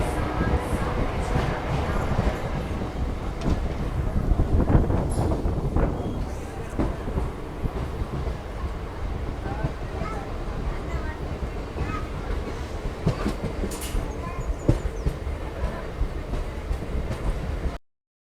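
Steady rumble of the 17348 SSS Hubballi MEMU Express on the move, heard from inside with a continuous rolling drone, occasional clicks from the track, and some faint background voices.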